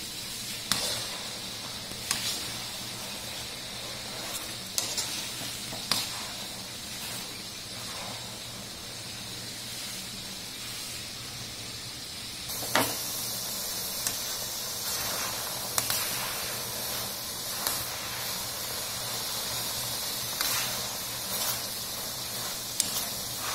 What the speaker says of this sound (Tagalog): deep fry ang ating beef